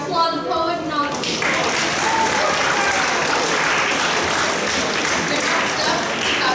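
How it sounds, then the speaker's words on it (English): An audience at a school spoken word poetry event bursts into loud, sustained applause close by. A voice is heard briefly at the start before the clapping takes over and fills the room. "Remember, applaud the poet"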